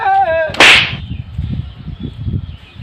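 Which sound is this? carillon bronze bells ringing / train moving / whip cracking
whip cracking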